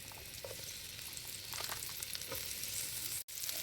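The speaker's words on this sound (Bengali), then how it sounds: "তারপর এখানে দেবো পেঁয়াজ কুচি" Chopped onion and green chilli fry in oil on a gas stove, a steady close sizzle with occasional crackles and stirring scrapes, cut by a brief dropout near the end.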